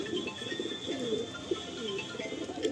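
Pigeons being shown for sale coo softly and repeatedly, throaty murmuring calls overlapping close by, with no speech.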